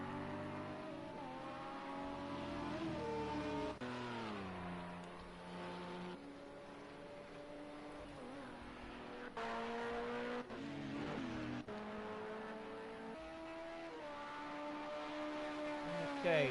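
Race cars at WEC Monza idle and rev loudly in the pit lane, engines droning with shifting pitch, a sustained close roar with several sharp rises and drops in throttle.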